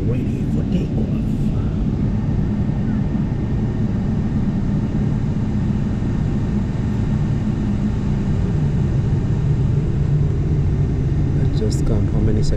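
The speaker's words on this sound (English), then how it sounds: "Now we are ready for takeoff." An airplane taking off, heard from inside the passenger cabin as a steady, loud, low engine roar and rumble that holds throughout with little change.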